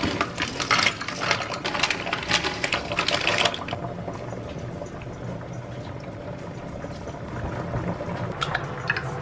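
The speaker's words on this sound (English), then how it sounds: "now the water is boiling" A pot of water at a rolling boil for pasta in a small home kitchen, a steady close bubbling and hiss that is louder and busier at first, then settles into a softer continuous simmer with no talk.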